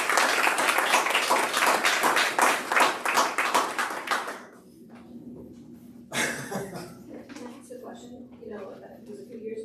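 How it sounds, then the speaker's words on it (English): Applause for students at a school board meeting: a burst of clapping from a seated audience for about four seconds that then dies away, followed by quiet room murmur, a few scattered claps and voices. "let's give everybody a round of applause"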